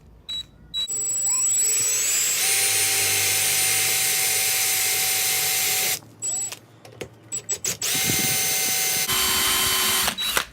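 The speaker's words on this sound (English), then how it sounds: "I want to drill a hole in the center here" A small drill whines at high pitch for several seconds while drilling a center hole in a workpiece on a lathe, stops briefly, then runs again in short bursts before another sustained spin.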